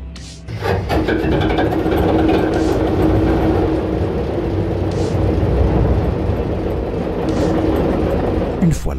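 A locomotive engine running after start-up, a steady loud rumbling drone with some mechanical clatter, close by and continuous, with no talk over it.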